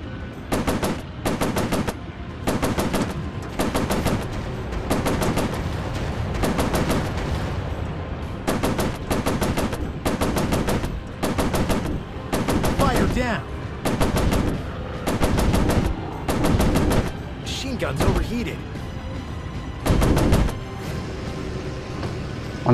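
Loud machine-gun bursts from a WWII F7F Tigercat fighter plane in a video game fire in rapid rhythmic volleys with short gaps between them, continuing nonstop over a low engine drone.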